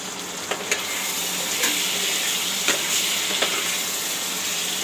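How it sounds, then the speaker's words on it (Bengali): An egg sautéed in a hot pan for a curry sizzles with a continuous crackling hiss, broken by a few sharp clicks and taps of stirring close by. "ডিমটা বসিয়ে দিয়েছি। এভাবে একটু কষাবো, কষাইয়ে হয়ে যাবে।"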